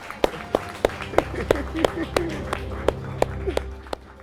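A crowd at a Liberland anniversary gathering clapping in a steady, evenly spaced rhythm of sharp claps, about three per second, over continuous crowd murmur and talking.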